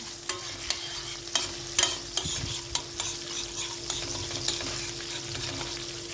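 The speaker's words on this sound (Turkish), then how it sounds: "Ve şu anda efendim bulgur pilavını yapıyorum. Tereyağı koydum." Butter sizzles in a pan with pepper paste for bulgur pilaf, a steady close frying hiss punctuated by regular light taps and scrapes of a spoon stirring, no voices.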